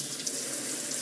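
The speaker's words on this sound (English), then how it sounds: "put that hot water right in on top of the pumpkin" Hot water poured from a coffee cup onto pumpkin in a Nutribullet blender cup, a steady continuous splashing trickle, close and alone.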